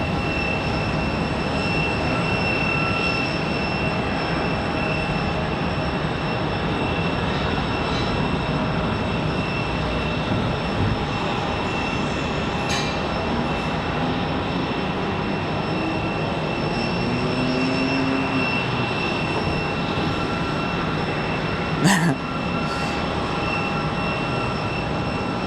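Airliner jet engines roar steadily at Raleigh Durham airport, a broad, sustained rumble with a faint high whine. A brief sharp click breaks in near the end, and no voices are heard.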